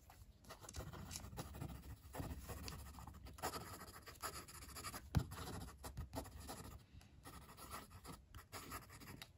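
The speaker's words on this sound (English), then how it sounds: "I should do some quick writing." Nib of a Midori fountain pen scratching across paper in quick scribbles, a close, quiet and steady scratchy patter with occasional sharper ticks and no talking.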